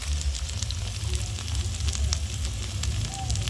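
Chicken with turmeric, dried chili and spices frying in a pan: a steady close sizzle with crackling pops and a low burner rumble underneath, no talk.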